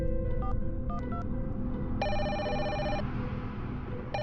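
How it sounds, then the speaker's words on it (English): A telephone rings in a couple of sustained electronic trills with a pause between them, sounding over a low rumbling background, with no one speaking. "We received another phone call"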